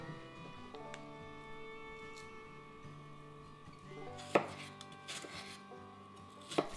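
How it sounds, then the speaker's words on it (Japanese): A knife chops a crushed garlic clove finely on a board, with a few sharp, close taps spaced apart over a low background hum. "これもみじん切りにしました。"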